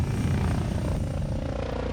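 Helicopter hovering over a motorway during a traffic incident, a steady low rotor thrum and engine roar filling the whole stretch, loud and continuous with no talk.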